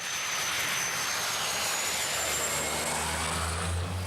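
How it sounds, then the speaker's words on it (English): Steady broadband drone of a light plane's engine, a 1950s design, in flight toward the North Pole, droning loud and continuous throughout with a low rumble growing near the end. "landing a light plane at the North Pole, on ice"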